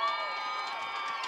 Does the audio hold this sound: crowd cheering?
yes